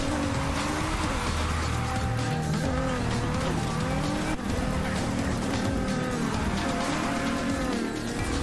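A Polestar 1 drifts in Need for Speed Heat, its tires letting out a wavering, rising and falling squeal over a steady, loud engine roar that holds without a break.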